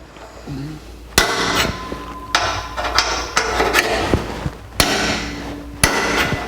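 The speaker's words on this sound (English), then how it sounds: "now we're going to use our center punch to punch the center of that hole" Several sharp metallic hammer strikes on a center punch marking a hole in a 1949 Chevrolet frame, spaced irregularly about a second apart, close and loud, with faint clinks between blows.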